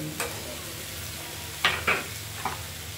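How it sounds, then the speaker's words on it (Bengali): Vegetable chochori with sugar frying in a pan, a low continuous sizzle with a few distinct spatula scrapes as it is stirred, close and fairly quiet with no voices. "এটা একটু মা নেড়ে নিচ্ছে"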